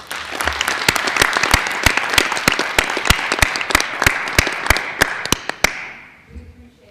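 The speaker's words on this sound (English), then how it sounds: "One more round of applause for all that they do." Scattered applause at a board meeting, sharp individual claps from a modest group of people, fairly close and steady before thinning out and stopping near the end, followed by faint room sound.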